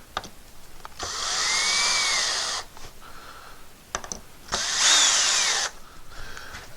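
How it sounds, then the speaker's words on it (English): A cordless power drill drives screws into a pegboard hammer holder in two close bursts, each a rising then steady whine lasting about a second and a half, with soft handling clicks between. "So screw them in."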